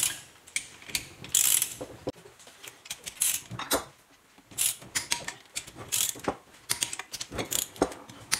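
A ratchet tightens the nuts on a Derbi Euro 3/4 moped engine, crisp rapid clicking in repeated short bursts with pauses between strokes, close by.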